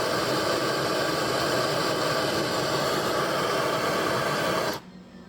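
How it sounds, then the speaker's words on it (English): Propane torch heating a seized nut on a car's lower control arm, a steady loud roaring hiss that holds for about five seconds and then cuts off abruptly near the end. "We'll try propane first, see what happens."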